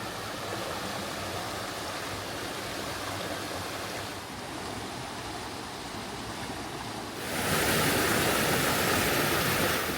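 Water rushes through a rock-carved channel near Rock Run Falls, a steady broadband wash that swells noticeably louder and brighter in the last few seconds.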